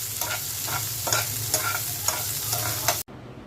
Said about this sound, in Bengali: ভর্তার জন্য পেঁয়াজ, কাঁচামরিচ, শুকনো মরিচ সব সরষের তেলের মধ্যে ভেজে নিচ্ছি।